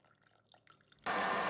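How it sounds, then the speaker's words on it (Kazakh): Sugar and lemon juice poured into a Thermomix bowl of raspberries for jam: near silence, then a sudden loud, steady rush of liquid filling the bowl for the final half second. "Оған қант, лимон суын құямыз."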